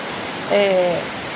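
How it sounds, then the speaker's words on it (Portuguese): Heavy rain and wind make a steady broadband rush throughout, and a brief voice briefly sounds over it partway through. "chuva muito forte, forte mesmo, tá ventando"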